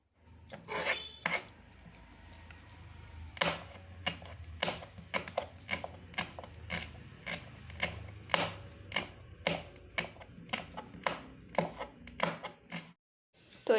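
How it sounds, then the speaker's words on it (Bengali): A knife chops coriander leaves and a green chilli on a board in quick, uneven bursts of sharp taps. The chopping is close and fairly quiet, pauses briefly, then stops, with no talking. "এই ধনিয়া পাতাগুলো কুচি কুচি করে প্রথমে কেটে নেব"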